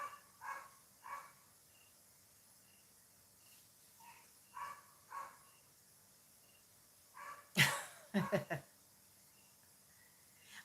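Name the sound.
dog barking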